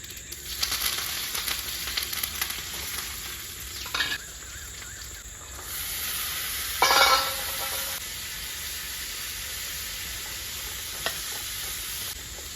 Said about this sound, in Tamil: பட்டாணி சுண்டல் தாளிச்சிருவோம்